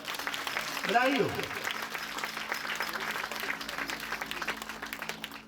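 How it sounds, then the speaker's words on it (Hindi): A crowd at a religious blessing ceremony applauds for a friend, with steady moderate clapping running under a voice briefly speaking near the start. "तो एक बार मित्र के लिए फिर से जोरदार ताली बजाओ"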